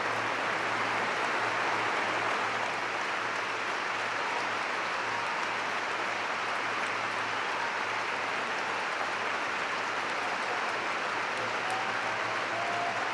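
A stadium crowd at a women's football match, England v France, applauds steadily for the full stretch. The clapping is dense, even and sustained, heard from a distance with no single clap standing out.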